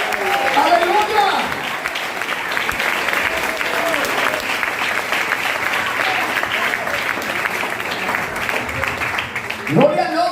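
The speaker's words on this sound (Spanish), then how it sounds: "Alguien dé ese aplauso a Él con más vida." A church congregation applauds with lively, sustained clapping and crowd noise, loud and continuous for several seconds, with voices calling out over the applause near the end.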